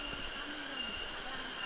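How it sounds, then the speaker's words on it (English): A loud, steady, high-pitched drone of cicadas fills a forest in Batu, Indonesia, without pause, with faint low sounds underneath. "It's really loud cicadas here."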